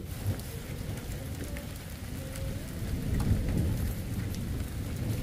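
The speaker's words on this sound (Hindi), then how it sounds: "अब मोटी वाली बारिश आने लग गई है" Heavy rain pours down steadily, a dense close hiss that grows a little louder partway through, with a low rumble underneath.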